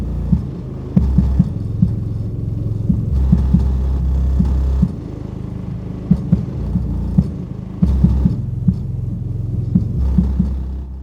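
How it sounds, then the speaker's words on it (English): Loud car audio subwoofer pumping deep bass in thumping pulses, with sustained low notes and a throbbing beat filling the sound for the whole stretch, no voices. "We may as well crank it up and see how it sounds."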